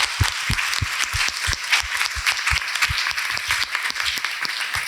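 Audience applause at a conference on philanthropy and women's rights, honouring Olivia Lorangeois: dense, steady clapping from a roomful of people, sustained and fairly loud throughout with no voices over it.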